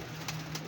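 A single hefty pigeon coos once, short and soft, among a keeper's flock of pigeons, with no voices over it.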